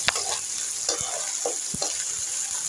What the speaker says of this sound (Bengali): মসলাটাকে আমি তেলের সাথে পেঁয়াজের সাথে একটু মিশিয়ে কষিয়ে নিব।